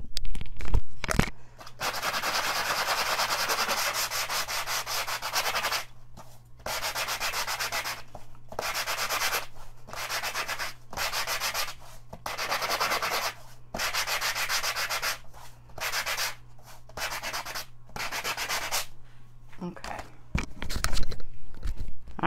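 Sandpaper rubbing over gold foil to distress it, a harsh scratchy rasp in long steady strokes broken by short pauses, close and fairly loud with a low hum underneath.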